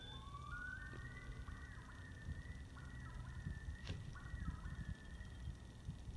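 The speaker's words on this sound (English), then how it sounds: "Did you guys just hear that bird?" A bird calls with a few rising, drawn-out whistling notes near a lake, faint against a low outdoor background rumble.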